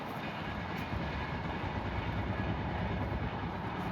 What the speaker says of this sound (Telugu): 12724 New Delhi Hyderabad Telangana super fast express